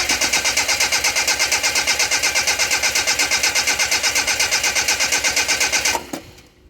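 A JDM Datsun engine cranks steadily without catching, the starter chugging in an even rapid rhythm for about six seconds before cutting off abruptly into near silence.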